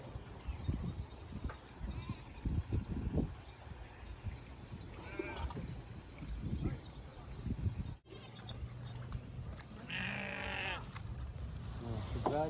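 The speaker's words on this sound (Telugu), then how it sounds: "మేకల గొర్రెల అడవిలో" Goats and sheep bleat in a forest, with wavering calls rising above a busy outdoor background and a few further off, plus faint human voices.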